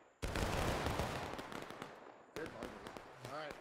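A musket volley in the Civil War video game War of Rights erupts as one loud, crackling burst, fading into scattered shots. A voice shouts over the later shots.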